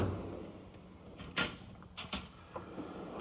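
A drawer in a metal workshop tool box slides open with a few short clacks and rattles. The sounds are spaced over a few seconds against a quiet room hum.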